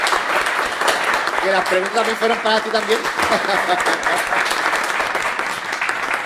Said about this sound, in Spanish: Vamos a darle un aplauso de nuevo a los invitados.